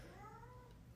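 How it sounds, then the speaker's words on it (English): Inside a podcast studio, a cat gives one drawn-out meow with a gently falling pitch, faint and heard alone against low room noise. "if you hear a cat meowing in here, we have a cat in the studio with us today"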